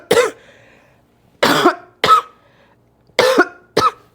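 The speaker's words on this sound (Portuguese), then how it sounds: "Se eu tossir, não estranhe." A woman with a cold lets out five sharp, loud coughs in two clusters, each a short harsh burst with silence between, close to the microphone and with no talk over them.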